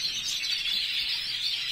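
Breeding birds kept for rearing chirp continuously, a dense high twittering of several birds close by with no pauses and no voices.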